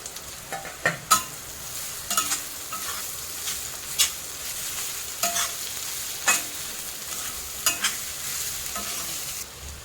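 Ground cluster bean mixture hits browned onions in a hot pan and fries with a steady close sizzle, broken by repeated sharp clicks and scrapes of a spoon stirring against the pan.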